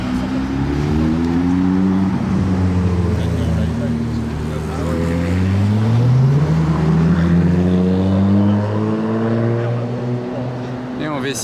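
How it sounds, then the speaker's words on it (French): A Jaguar F-Type with a V6 engine drives past, its throaty exhaust note rising and falling through several gear-like sweeps at close range, loud and continuous over roughly eleven seconds, with voices chattering in the background. "V6, c'est sympa hein, la sonorité des F-Type"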